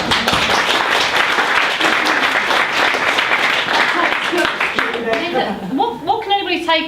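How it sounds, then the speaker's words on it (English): An audience gives a round of applause during an inspirational business talk, a dense, sustained wash of many hands clapping that fades after about five seconds as voices take over. "So round of applause, you've won."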